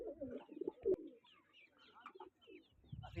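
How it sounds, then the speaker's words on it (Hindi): Pigeons kept by a fancier coo softly in low, rolling calls, faint and close, with some light chirps and rustling around them. "दो रंग की कबूतरी है, पेप्सी कलर है कबूतर है"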